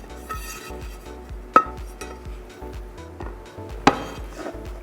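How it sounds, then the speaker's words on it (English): A pot of Persian tahdig rice is handled and flipped, with rhythmic knocks, scrapes and two sharp metallic clanks of pot and lid against a surface, close and clear with no talk. "now it's time to flip the tahdig"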